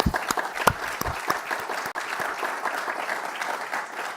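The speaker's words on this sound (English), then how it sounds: "let's give a clap for our heroes." Audience at a veterans' honor event clapping for heroes, loud and close, with sharp individual claps up front blending into sustained crowd applause that continues to the end.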